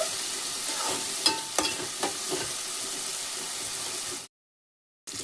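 Tomato and brinjal pieces fry in a pan, a steady broadband sizzle with a few stirring scrapes and clinks, continuous and close, then a brief silence near the end before the sizzle resumes.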